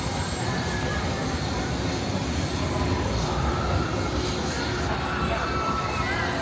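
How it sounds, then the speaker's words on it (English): A train rumbles past at Disneyland as a steady, dense low roar with faint high squeals, continuous and moderately distant, while voices murmur underneath. "Oh, there's the train going by,"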